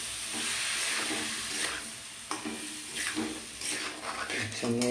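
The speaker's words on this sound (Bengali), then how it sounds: "চালটা দিয়ে দিলাম, দিয়ে আবার একটু নেড়ে চেড়ে দেবো।" Rice stirred in a pan with a little water over a gas flame, a close hissing sizzle broken by repeated scraping strokes, with a voice audible at moments underneath.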